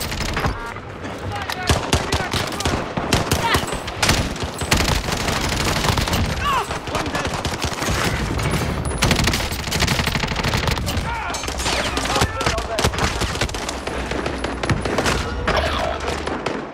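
Dense, loud video-game gunfire, with sustained automatic bursts and scattered single shots running throughout, while players talk over the shooting.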